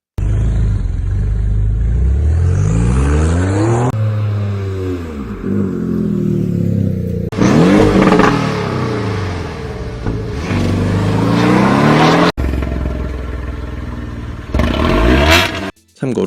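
A rough, throbbing flat-four boxer engine revs up and down several times, with deep rumbling pulses and brief pauses between the loud bursts.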